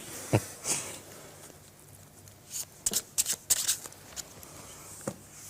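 A deck of playing cards is shuffled in a quiet room, giving several short crisp riffles and flicks in separate bursts, close and fairly soft.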